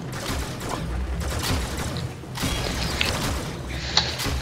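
A sci-fi door in the Warframe video game slides open with a continuous mechanical grinding and ratcheting, broken by a couple of sharp metallic clanks near the end.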